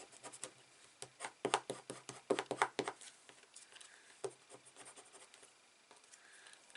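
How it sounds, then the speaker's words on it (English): A bone folder rubs across crimped designer paper for an 8 x 10 album, flattening it back out. Soft scratchy strokes come in a quick burst of rubs, then fade to lighter scraping, close and quiet. "just grab your bone folder and flatten it back out"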